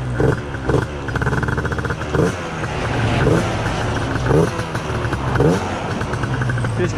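A Gilera Runner 180cc scooter engine idles after a carburetor adjustment with a smart carb fitted. It has a buzzy, throbbing note with repeated blips of revving, up close and loud.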